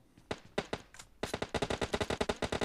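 Rapid bursts of automatic gunfire from the mobile shooter game PUBG Mobile Lite: a few separated shots, then a dense, loud, steady volley of repeated shots close up, with no talk.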